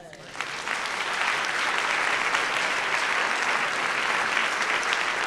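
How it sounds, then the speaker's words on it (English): A church congregation at a Black observance service clapping for themselves, sustained dense applause swelling after a brief start and holding loud and even throughout. "I want you to clap for yourselves because you made it another day."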